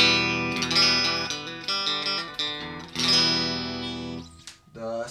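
A Fender Jaguar electric guitar with both pickups on and the cut switch off, strummed chords ringing bright and trebly, two main chord hits with sustained decay, played alone up close.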